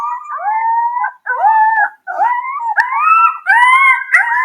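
Recorded howl of a de-extinct direwolf: a series of loud, clear, wavering howls rising and falling in pitch, broken by short pauses, close and alone with no other sounds.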